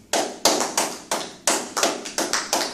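Bursts of hand clapping from a church congregation, loud and close, coming in sharp rhythmic waves with no voices over them.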